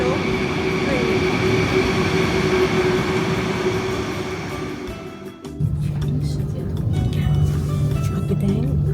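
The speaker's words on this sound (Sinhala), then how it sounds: "මෙන්න මේක තමයි ඉටාලෝ ට්‍රේන් එක." An Italo high-speed train in Italy rolls along with a loud, steady rumble and whoosh, then a brief dip before a tonal hum and rattling return; a person talks over it.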